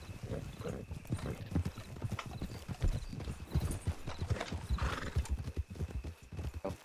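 Horse hooves clip-clop in the RedM video game in a steady, close rhythm, with a horse neighing midway. No one talks.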